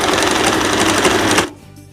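A sewing machine stitches elastic onto a dress in one loud, rapid, rattling burst that stops abruptly after about a second and a half.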